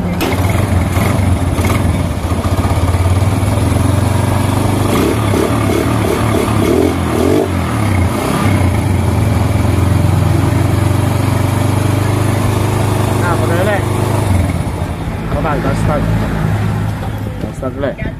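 A motorcycle engine, freshly rebuilt with a new block set and valve seals, runs steadily at a loud, close, rough idle while someone talks over it throughout.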